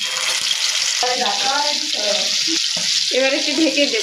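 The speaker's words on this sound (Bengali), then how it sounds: "তেলের ভিতর আমি একে একে ম্যারিনেট করা চিকেনগুলো দিয়ে দিচ্ছি।" Marinated chicken pieces go one by one into hot oil on a stovetop pan for homemade-spiced grill chicken, giving a steady, close sizzle and hiss while a voice talks over it.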